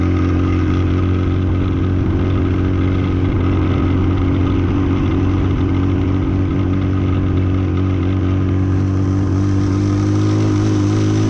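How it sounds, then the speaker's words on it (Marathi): Car engine straining in first gear up a steep high-altitude mountain road toward Umling La pass in Ladakh, a steady loud mid-pitched drone with low harmonic hum, continuous throughout with no talk. "मित्रांनो तर गाडी फार स्ट्रगल करायला लागली. पहिल्या गेअरमध्ये चालली."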